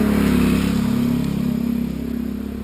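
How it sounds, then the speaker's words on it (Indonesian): A motorcycle pulls out onto a hotel access road in Awiligar, its engine rumbling near at first and then fading gradually as it moves off, alone without voices. "Itu di depan, tuh yang motor keluar."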